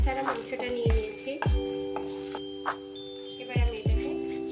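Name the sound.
boneless chicken frying in oil in a pan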